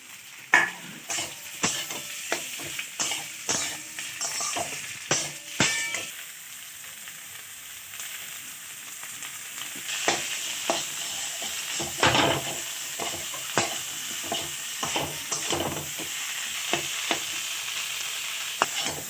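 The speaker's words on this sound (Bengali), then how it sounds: "আলুগুলো দিয়ে ভেজে নেব" Mashed boiled potatoes frying in a pan over onion, chili and tempered spices, stirred steadily with repeated scraping strokes over a continuous sizzle, close and moderately loud, with no talking.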